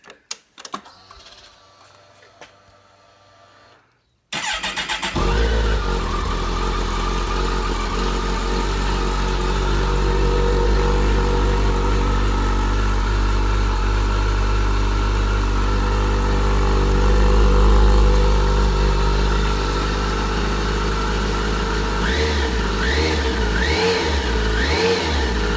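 A Kawasaki Concours 14 (ZG1400) with its stock exhaust starts after a few quiet seconds, then idles loudly and steadily with a low rumble, swelling in a rev around the middle and finishing with several short throttle blips.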